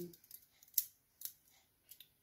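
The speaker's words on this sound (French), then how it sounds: "Avec des petits ciseaux, ça pourrait être plus sympa." Small scissors make a few quick, faint snips as they trim off a small bit of material. The crisp clicks come irregularly over about two seconds in a quiet room.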